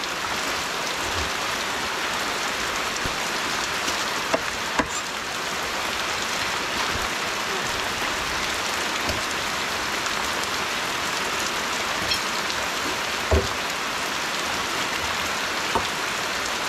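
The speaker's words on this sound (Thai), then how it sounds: "ฝนมันไม่หยุดตกเลยนะ" Heavy rain pours steadily on a forest campsite where a rain shelter is being built, a dense, constant hiss with occasional louder drips and knocks, no voices.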